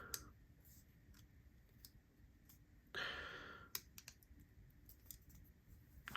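Parts of a Rosie folding knife being clicked back into place during reassembly after a bearing fix, with a series of small sharp clicks and one brief rasping scrape, close and quiet, no talking.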